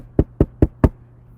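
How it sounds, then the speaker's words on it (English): Four evenly spaced knocks on a door, close and crisp, each a short dull thud with nothing else around them. "She said he knocked on the door."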